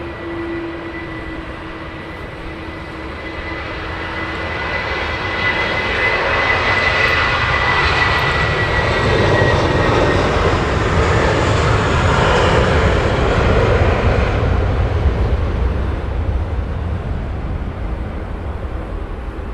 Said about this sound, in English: the American Airlines Dreamliner that's taxiing down now will be put on to 27 left departure